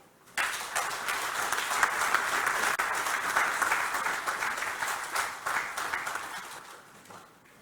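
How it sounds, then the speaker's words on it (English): An audience at the official commissioning of the AfCFTA Secretariat in Ghana breaks into applause, a dense, sustained roar of many hands that swells, holds steady and tapers off near the end. "may I ask for another round of applause"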